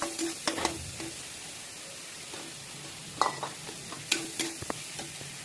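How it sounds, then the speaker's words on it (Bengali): Spice paste with turmeric and salt being stirred and fried in a pan: soft scraping stirs and clinks of a spoon come in irregular bursts over a low, steady sizzle, close and fairly quiet. "দিয়ে মশলাটা ভালো করে কষিয়ে নেব"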